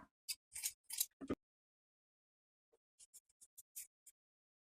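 Scissors trim a fabric seam on a shirt jacket, with crisp, close snips in a quick cluster, a pause, then a lighter run of shorter cuts.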